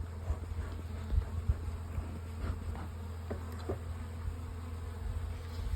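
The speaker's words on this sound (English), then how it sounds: "these are the Buckfast bees in this one" Buckfast honey bees at an active hive drone in a steady, close buzz with occasional individual bees zipping past louder, a continuous insect hum with no talk.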